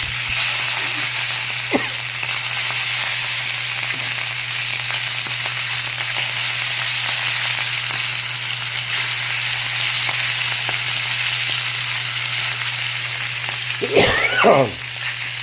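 A second batch of tulingan, bullet tuna, frying in oil, giving a continuous close sizzle with occasional pops and a brief voice-like sound near the end.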